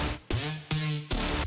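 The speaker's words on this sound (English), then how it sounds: "there's a bunch of 808 sounds in there" Three heavy, booming 808 electronic bass drum hits, evenly spaced, each with a sharp attack and a long, deep, humming decay.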